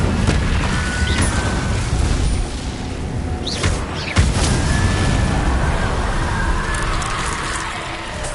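Incendio fire spells are cast in Hogwarts Legacy, bursts of whooshing flame and booming blasts with a sharp crack midway, over continuous noisy combat ambience.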